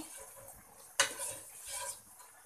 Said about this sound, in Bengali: তো আমি এটাকে একটু ভেজে নিচ্ছি।